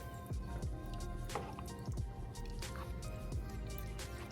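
Pepperoni slices are stirred through simmering lasagna sauce, giving a steady wet, squishy churning with soft drips and bubbling throughout.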